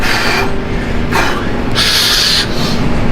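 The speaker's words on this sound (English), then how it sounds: "Train!" A train passes nearby with a loud continuous rumble and repeated squealing, hissing surges of wheel noise on the rails. No one speaks.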